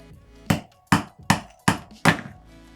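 Five sharp knocks of a mallet on a knife blade set into a round piece of clear ice from a Yeti mug, evenly spaced, close and crisp, each strike ringing briefly before the ice cracks through.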